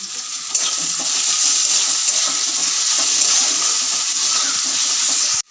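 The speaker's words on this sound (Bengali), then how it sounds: "ওইখানে পেঁয়াজ ভাজাটা হচ্ছে" Onions frying in a pan on a home stove, a steady loud hiss and sizzle running continuously, close up and without talk, cutting off abruptly at the end.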